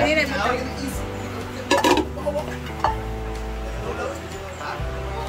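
Boiled meat being washed in a pot, with clinks and knocks of the pot and utensils in bursts over a steady background hum while people talk nearby.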